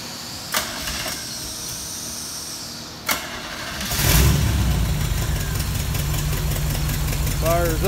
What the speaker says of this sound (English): go ahead and fire the car up.